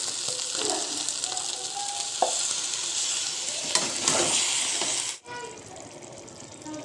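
Potatoes and mushroom curry sizzle in a pan as a spatula stirs and scrapes through them, a close steady fry with sharper scraping strokes, briefly cut off before the sizzle resumes more quietly.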